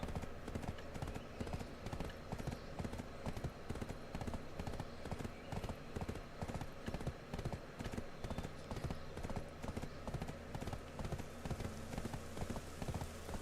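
Horse hooves clip-clopping in a steady, even rhythm in Black Desert Online, a continuous train of close hoofbeats with faint background game sound.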